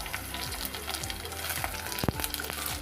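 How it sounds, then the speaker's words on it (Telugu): Curry leaves frying in hot oil for a Telugu egg curry, a dense continuous sizzle with crackling pops and occasional stirring scrapes close by. "గోల్డెన్ బ్రౌన్ వచ్చే వరకు వేయించాక కొద్దిగా కరివేపాకు వేసుకుందాం."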